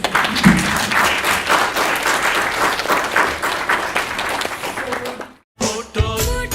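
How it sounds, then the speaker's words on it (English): An audience gives loud, close applause after an artist talk at a photography festival, sustained for about five seconds before cutting off, after which a voice speaks. "we'll be, round of applause"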